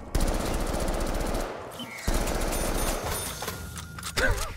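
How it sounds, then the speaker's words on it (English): Rapid loud bursts of automatic gunfire from weapons in COD Zombies, two long chattering volleys separated by a brief gap, with scattered shots and game effects trailing after. "These guns are so loud"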